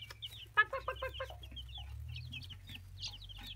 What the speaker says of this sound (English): Cute little baby chickens. Busy growing.